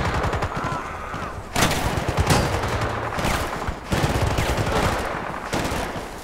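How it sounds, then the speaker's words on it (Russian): Dense gunfire in the video game Battlefield Bad Company 2, sustained automatic bursts and heavy shots filling the scene loudly with little pause, jungle battle setting. "Откуда стрельба-то ведется?"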